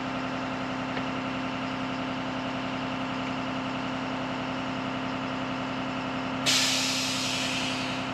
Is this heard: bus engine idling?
yes